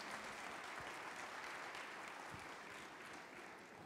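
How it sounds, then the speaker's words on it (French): An audience at a cooking competition event gives a steady round of dense clapping that holds at an even level and fades only slightly at the end. "On vous applaudit aussi."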